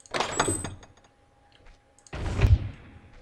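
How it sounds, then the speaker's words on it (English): A door opening and then closing in a Zelda fan game, The Shadow Gate: two separate loud mechanical bursts with a brief quiet gap between them, close and alone. "there's another cool sound that I'd like to show you, and that's the door opening and closing sound"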